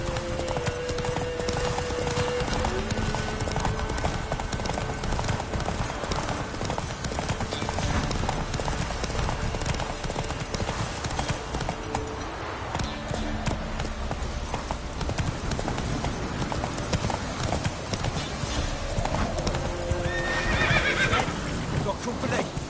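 Hooves clip-clop steadily as a horse gallops in the video game The Witcher 3, with occasional whinnies and someone speaking over the continuous rhythmic beat.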